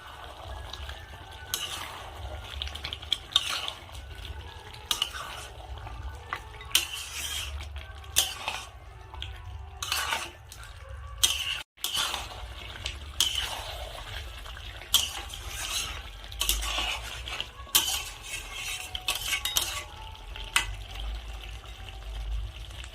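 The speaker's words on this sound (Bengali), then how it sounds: "এখন আমি ঢাকা খুলে একবার নেড়ে নেব।" A pot lid comes off and a spoon scrapes and stirs desi chicken curry simmering over a medium gas flame, with soft sizzling, clinks and knocks against the pot, close by, without speech.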